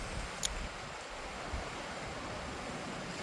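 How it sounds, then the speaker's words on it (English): Sea waves wash in and out below Kinbane Castle on the Antrim coast near two sea caves, heard as a steady distant surf roar with wind noise buffeting the microphone and no talk. "just down there you can hear the waves going in and out"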